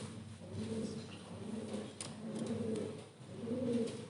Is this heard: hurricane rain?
no